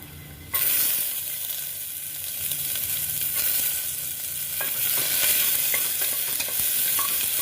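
Onion hits a pan of frying garlic and black pepper with a sudden loud sizzle that holds as a dense, steady hiss, broken by occasional stirring scrapes, close and with no talking.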